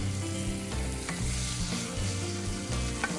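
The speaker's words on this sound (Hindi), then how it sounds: "चीजों को मिक्स करें" Stirring and mixing chicken with butter and a drizzle of olive oil in a hot pan, a steady close scrape and shuffle over continuous frying sizzle, with no talk.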